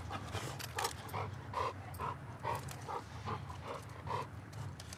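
A dog in the video game The Last of Us Part II pants rapidly and rhythmically, close up, with a low hum underneath.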